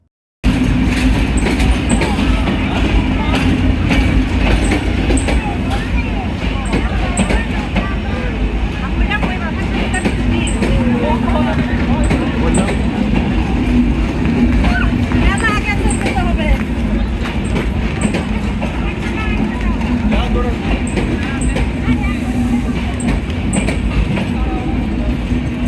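A crowded passenger train running from Bheramara to Rajshahi rumbles loudly and steadily throughout, with clattering wheels and faint periodic ticking above the constant roar, and people talking in the carriage.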